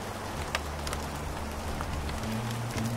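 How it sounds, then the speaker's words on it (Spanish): Steady rain falls in a dense, hissing patter, with scattered sharper drops cutting through and a low sustained hum underneath. "¡Que pare de llover!"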